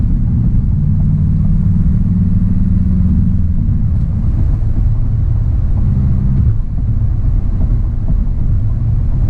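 A 2020 VW Jetta GLI sports sedan in sport mode gives a steady, loud low engine and road rumble from inside the cabin, with a drop in tone around the six-second mark.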